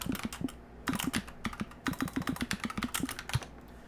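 Close, crisp typing on a computer keyboard, quick clusters of sharp key clicks in uneven bursts with short pauses between, heard alone without talk.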